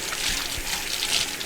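Hands washed under running tap water in a home kitchen while cooking: a brief, steady, soft rush of water with no talking.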